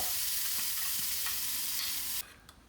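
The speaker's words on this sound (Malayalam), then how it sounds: "വെളിച്ചെണ്ണയിൽ കടുക് കറിവേപ്പില വറ്റൽമുളക് അതൊന്നുകൊണ്ട് താളിച്ച്" Mustard seeds, curry leaves and dried chillies tempering in hot coconut oil, a steady close sizzle with light popping and stirring that cuts off abruptly near the end, leaving a few faint clicks.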